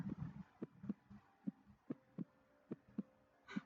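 A slow heartbeat sound effect thumps steadily about every half second, each beat a soft low pulse, quiet and alone over a faint hum.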